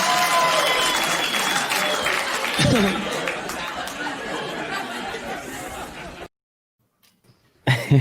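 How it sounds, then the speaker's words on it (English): Loud applause break from a comedy club audience after a stand-up bit, mixed with laughter and chatter, fading gradually before dropping to silence, then a brief burst of sound at the very end. "We ended on an applause break"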